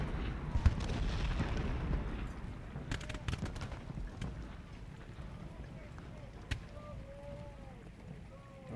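Cannon artillery fire in the Ultimate General: Gettysburg video game rumbles in the early part, with scattered sharp booms and crackles that fade toward the end, while a voice talks over the battle.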